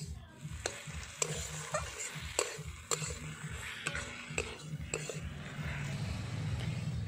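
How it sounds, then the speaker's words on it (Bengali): Potatoes and goat fat sizzle with spices in a pan while being stirred, giving a steady close fry under regular scraping strokes and no talking. "দিয়ে দিলাম ভেজে রাখা আলু এবং খাসির চর্বি। ভালো করে কষিয়ে নেব মশলার সঙ্গে।"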